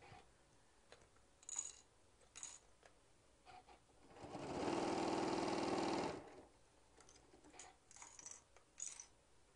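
A sewing machine runs in one steady burst of about two seconds, back stitching on a Lella bag at the end of a seam. Light handling clicks come before and after it, and no one speaks.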